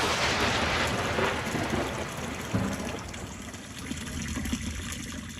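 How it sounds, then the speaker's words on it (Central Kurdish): Water from a spring at the foot of Washi mountain in the Barzan region flows and splashes steadily, a dense continuous rush heard close up with no voices. "کانی واش کانیاوێک دەکەوێتە بناری چیای واشی دەبەری بارزان"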